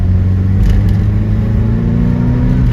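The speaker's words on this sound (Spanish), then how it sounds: "Ahora sí lo voy a acelerar de nuevo que tengo acá más espacio. Acelero a fondo." A Toyota Corolla Liftback engine runs at full throttle, a steady, loud low-pitched drone heard from inside the car, climbing only slowly with no talk over it.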